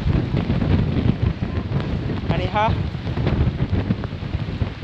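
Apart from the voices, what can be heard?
strong wind and rain on a monsoon mountain trek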